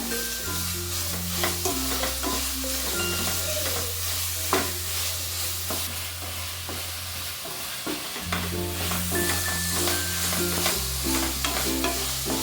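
Tomatoes with salt sautéing in a pan for mushroom biryani, a steady close sizzle with repeated stirring scrapes running throughout, alone with no voices and a low hum beneath.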